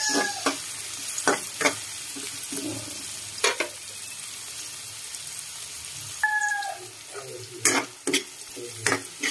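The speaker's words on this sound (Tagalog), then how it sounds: "Halo-halo para ma-mix." Pork offal with ginger and chili sizzles and fries in a pan, with scattered scrapes and clinks of a spatula stirring at irregular intervals over a soft frying hiss.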